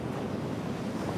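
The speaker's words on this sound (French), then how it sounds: "Les vagues glacées du Kamchatka, c'est l'expérience ultime pour les surfeurs du monde entier" Icy ocean surf off Kamchatka churns as a dense, continuous wash of breaking waves mixed with wind rumble, steady and fairly close throughout the brief moment.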